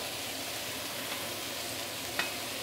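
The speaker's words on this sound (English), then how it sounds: "I'm going to give it a little bit of light soy sauce." Roast pork and sliced leeks fry steadily in a hot wok as light soy sauce goes in, giving a dense, even hiss with one brief sharper spit near the end and no talk.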